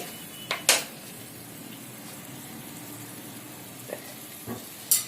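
A prawn and egg curry masala fries quietly in a pan under a low, steady sizzle, with a few sharp clinks of a spoon against metal standing out at the start and end.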